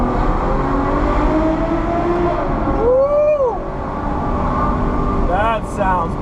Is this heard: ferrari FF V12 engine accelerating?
yes